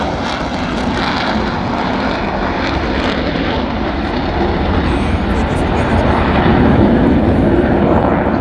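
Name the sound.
Airbus A400M military transport aircraft taking off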